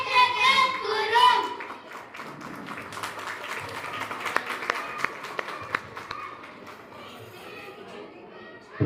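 Audience at a school annual day clapping for children after their performance, a light, patchy patter of hands beneath chatter and background noise in a hall.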